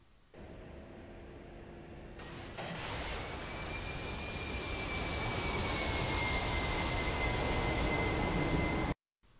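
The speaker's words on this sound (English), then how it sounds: "Once we jump in the Hog's cockpit, we eject immediately" A pilot ejects from an A-10 Hog cockpit in a flight simulator game: a quiet cockpit hum gives way to an abrupt jump into a loud, sustained roar of wind and engine noise that holds steady until it cuts off.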